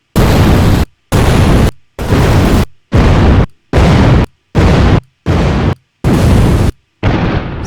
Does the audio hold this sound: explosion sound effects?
yes